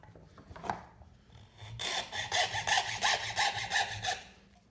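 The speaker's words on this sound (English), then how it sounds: "So with a junior hacksaw, you can do curves, but you have to do the curve while you're cutting." Junior hacksaw cutting through a workpiece: after a brief stroke, a steady run of quick, rhythmic rasping back-and-forth strokes, close and fairly loud, with no talking.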